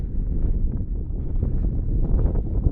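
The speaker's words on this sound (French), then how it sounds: "Oula, il y a du vent" Strong wind buffets the microphone on a mountain trail in the Hautes-Pyrénées near the Néouvielle, a continuous low roaring rumble with gusty swells and no speech.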